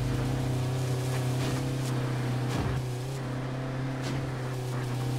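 Steady car engine drone from the survival video game H1Z1, a continuous low rumble with a strong hum that holds evenly throughout, with no talking over it.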